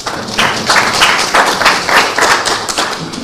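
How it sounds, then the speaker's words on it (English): Outdoor audience clapping at a handing-over ceremony for a proposed mausoleum in Bondo, loud and close, with rhythmic bursts of claps swelling and easing in regular waves. "You can clap for him."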